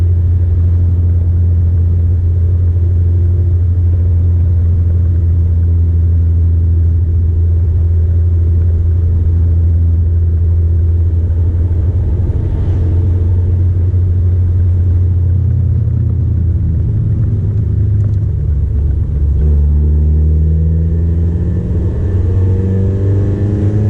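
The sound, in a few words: car engine while driving, shifting gears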